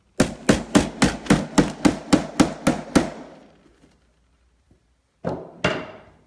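Eleven quick, evenly spaced hammer taps drive small black tack nails into an old picture frame, sharp and close, followed by a pause and then two more isolated knocks.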